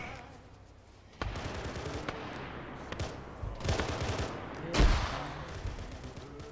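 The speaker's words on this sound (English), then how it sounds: "they're fucking shooting through the fucking bush" Gunfire rattles through a military squad video game, with scattered sharp shots and short bursts, some sharper and nearer, one strong report near the end, over a low background.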